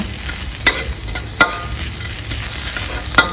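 Shallots fry steadily in hot oil in a wok over low heat, with a few sharp scraping clicks of a utensil stirring, close by and without speech.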